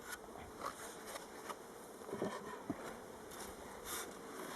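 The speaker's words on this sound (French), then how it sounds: "Ah, petite abeille." Honey bees buzz around an opened hive during a spring inspection, with a steady background hum and a few faint, brief fly-by buzzes rising above it.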